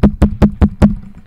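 Five evenly spaced sharp taps on a microphone, close and loud, each a quick knock with a low thump, spaced about a fifth of a second apart with nothing else around them.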